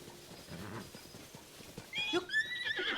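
A horse in Zelda: Tears of the Kingdom whinnies and clip-clops, the hoofbeats muffled beneath game ambience before a louder, bright neigh rises near the end.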